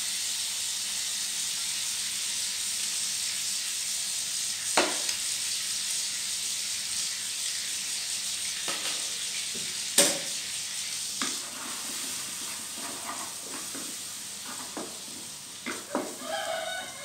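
A soy sauce mixture sizzles and hisses loudly in a hot pan, a steady frying roar broken by scrapes and clacks of a spatula stirring it.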